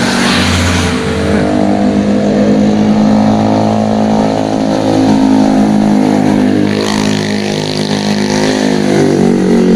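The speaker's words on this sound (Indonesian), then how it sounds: "apalagi banyak motor lewat" Loud motorbike engines roaring close by in a narrow residential alley in Manado, North Sulawesi, a continuous revving drone that swells as bikes pass through the tight space.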